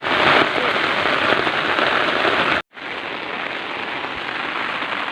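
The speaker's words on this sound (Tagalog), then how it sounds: "it's raining and raining na talaga" Heavy rain pours during a traditional rice harvest in the countryside, a loud, dense, steady hiss of drops hitting a surface, with a brief cut midway before the downpour resumes.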